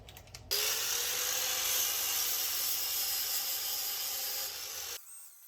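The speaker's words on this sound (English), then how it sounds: "The grinder is doing a great job of taking off this epoxy." An angle grinder strips epoxy from a wooden railroad coffee table, a steady close whirring grind lasting about four and a half seconds before it cuts off abruptly.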